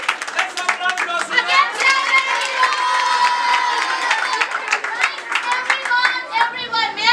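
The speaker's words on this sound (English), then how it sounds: "Let's have a round of applause." Lively clapping and cheering from a crowd at a role-play event, with rapid irregular hand claps and shouts in the foreground, fairly loud and continuous, thinning into looser claps near the close.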